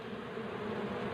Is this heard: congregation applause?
no